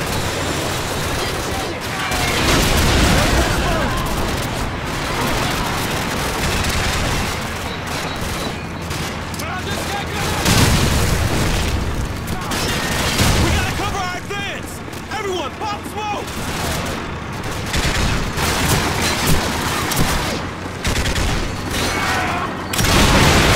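Gunfire from the Call of Duty 4: Modern Warfare mission "All In", dense bursts of automatic fire and booming shots rolling almost without pause, loud and close, with radio chatter and voices speaking over the combat.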